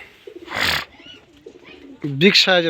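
A big Allahabadi Lal Dom pigeon, held in the hand, makes a few short close vocal bursts and a louder harsh call near the end, with rustling and brief voice sounds around it.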